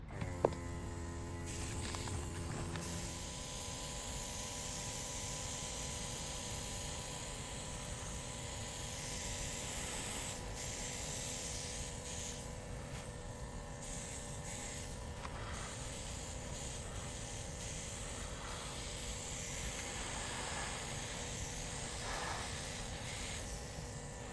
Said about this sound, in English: I have my airbrush here, so let's get started on painting the underbody